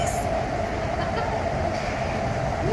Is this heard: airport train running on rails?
yes